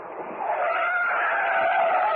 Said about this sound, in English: A car with a red light on top.